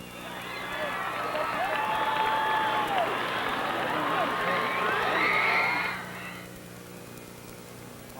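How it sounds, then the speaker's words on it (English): A crowd at a 1986 high school band awards event applauds and cheers for eight band finalists, a loud, dense wash of clapping with shouts and whistles lasting about six seconds before fading to quieter room noise. "They all deserve a big hand of applause."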